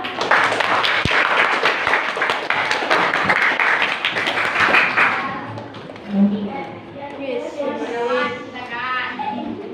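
Classroom of students applauding a classmate invited to demonstrate handwashing steps, a dense patter of clapping for about five seconds that fades into a teacher talking over lingering murmurs.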